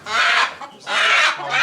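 A rooster clucking and squawking loudly in two long agitated bursts as it is caught beside a movable chicken coop, close to the listener.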